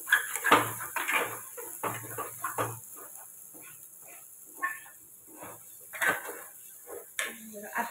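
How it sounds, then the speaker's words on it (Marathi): Fried masala is stirred in a pan, making close, irregular scrapes and metallic clinks of a spoon against the pan, with quieter gaps between the strokes. "आता पुन्हा आपण मसाला छान हलवून घेऊया।"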